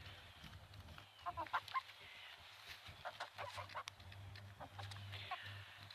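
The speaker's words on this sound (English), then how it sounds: "They're just saying it in chicken." Chickens pecking at a pumpkin cluck in short, soft bursts, several birds close by but quiet, with brief pauses between calls.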